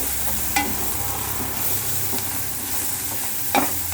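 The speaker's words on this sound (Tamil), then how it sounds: "வெங்காயம் வதங்கிடுச்சு" Onions sautéing in a pan for a squid gravy: a steady, loud sizzle with a couple of sharp stirring clacks, close up and with no voices.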